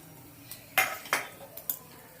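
Cashews are tipped into a pan of sweet potato sheera, giving a few light metallic clinks and taps of utensil against pan, sharp and close, spaced irregularly in an otherwise quiet kitchen.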